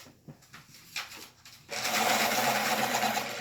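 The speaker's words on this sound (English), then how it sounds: "Let me sharpen it up." A colored pencil is ground in a pencil sharpener with a loud, continuous rasping whir that starts abruptly after a few soft handling sounds and runs to the end.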